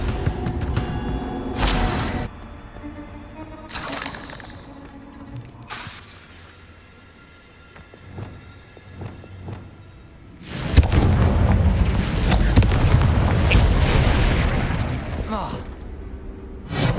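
Confringo fire spells explode in the video game Hogwarts Legacy, several heavy booming blasts bursting loudly at intervals, with a long roaring explosion rumbling through the later half.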